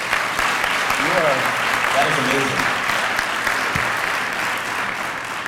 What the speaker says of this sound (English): Can we have one more round of applause for this young lady?